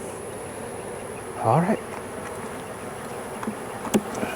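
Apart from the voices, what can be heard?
honeybees buzzing in open queenless hive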